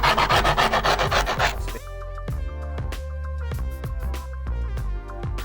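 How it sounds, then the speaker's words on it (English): The edge of a skate tool rubs quickly back and forth along skateboard grip tape in a dense run of scraping strokes lasting under two seconds. Plucked, tonal music follows. "I'm just going to use the edge, and we're just going to use the edge to start making our outline really easy to see"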